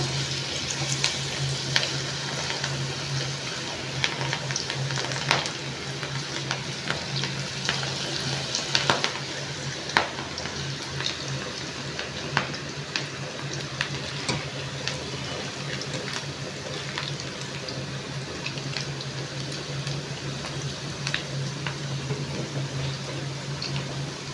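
Cabbage pakoda crackling and bubbling in hot oil, a dense continuous sizzle with scattered sharp pops and occasional stirring, close and steady, no talking.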